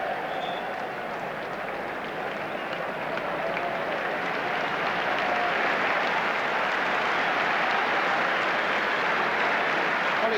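Steady crowd applause at a football match as player Steve Walford leaves the pitch, a broad continuous wash of clapping from the stands.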